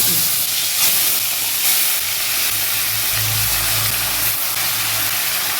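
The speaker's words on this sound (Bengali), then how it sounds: "উল্টে পাল্টে ভেজে নেব এক একটা করে" Marinated chicken pieces frying in oil for Kolkata restaurant-style chicken biryani, heard as a loud, steady, steamy hiss with a low rumble underneath and no clear speech.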